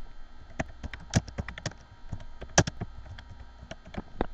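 Keys on a computer keyboard click in quick, irregular bursts of typing, close and fairly quiet, with no one talking.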